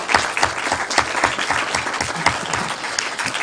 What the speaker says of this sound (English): And so a very big applause for them.